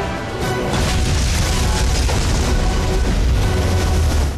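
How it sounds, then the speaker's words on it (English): A whole island blows up in the 2010 film Moby Dick, a sustained, loud, dense roar of explosion and crashing debris that fills the scene without a break and carries no voices. "Oh, apparently the island was made of dynamite."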